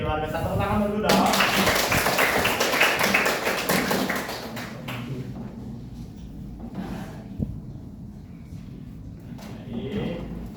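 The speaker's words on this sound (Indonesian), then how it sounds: "Kita tepuk tangan dulu dong." A class of children clapping their hands in a primary school lesson, a loud burst of quick, dense claps that stops after about four seconds and gives way to quieter room noise and voices.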